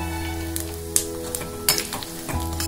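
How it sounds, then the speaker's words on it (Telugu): Dried red chillies and crushed black pepper fry in hot oil for a tempering, a soft steady sizzle broken by a few sharp crackles and spoon stirs, close and without talk. "ఎండుమిర్చి దంచిపెట్టుకున్న మిరియాలు వేసి వేయించుకోవాలి"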